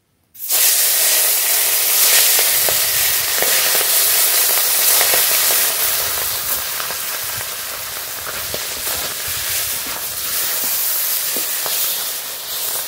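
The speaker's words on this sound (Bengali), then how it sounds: "এবার বাটা মাছগুলো ভেজে নেব" Bata fish frying in hot oil in a home kitchen, a loud, steady sizzle and hiss running throughout with small crackles and pops, no talking.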